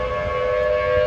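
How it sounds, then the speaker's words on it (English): Tornado warning sirens wail in Pontiac, Illinois, during a rapidly rotating supercell storm, a loud, steady, sustained siren tone filling the whole moment with no one speaking. "You can hear the sirens going off."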